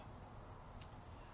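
Crickets outdoors sing in a continuous high, thin trill, steady and faint in the background, with no talking.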